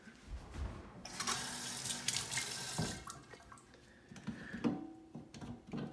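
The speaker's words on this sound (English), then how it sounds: "It's time for hand washing time." Running tap water splashing over hands being washed at a sink, a moderately quiet, continuous rush with small clicks and shifts as the hands move, without talk.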